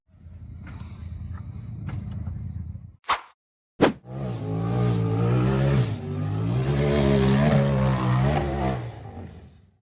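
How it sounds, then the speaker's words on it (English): An off-road buggy roars up a steep muddy hill in a 4x4 hill climb, a loud revving engine that rises and falls after a short break, close and continuous. "The black buggy with pink accents started from the muddy pit and accelerated up a steep hill."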